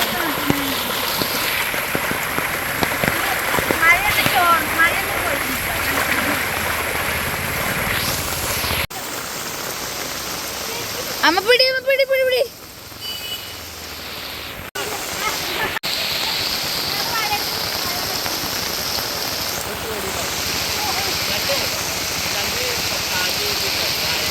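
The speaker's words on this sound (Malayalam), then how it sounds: "നല്ലോ മഴ പെയ്തിട്ടിപ്പോൾ" Steady heavy rain hisses continuously in Kerala amid flooding, with a brief voice rising and falling midway through the downpour.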